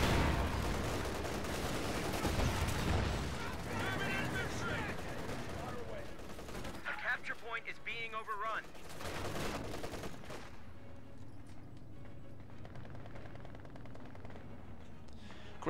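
Machine gun fire in a WWII strategy video game, with rapid bursts of gunfire and explosions mixed into a dense battle soundscape, then fading to a quieter rumble while a commentator talks.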